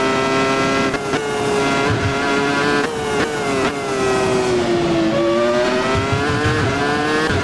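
A Formula 1 car in the Assetto Corsa racing game screams around Suzuka, its engine pitch climbing and dropping sharply through gear changes and corners, loud and constant with no talk.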